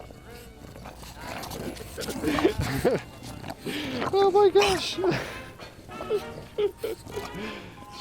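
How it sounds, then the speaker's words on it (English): Neighbour's bulldog snorting and snuffling nearby in bursts, mixed with a person's excited exclamation and talk. "Absolutely hilarious, snorty little bulldog there."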